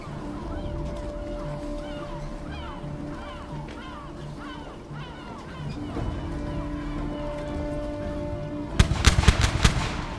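Ship cannons fire a broadside in a Ubisoft pirate video game, a rapid cluster of loud booming shots near the end following a stretch of ambient game sounds and bird-like calls.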